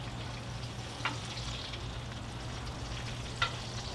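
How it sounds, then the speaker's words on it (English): A steak sautés in a pan with a steady, moderate sizzle and a low hum beneath it, broken by two short sharp spits or clicks, and no one speaking. "Saute it a little bit."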